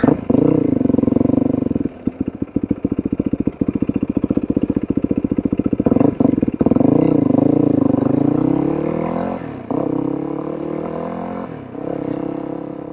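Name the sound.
Yamaha WR450F converted dirt bike riding on street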